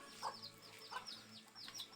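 A chicken clucks a few short times, soft and somewhat distant, with brief pauses between calls and no talking.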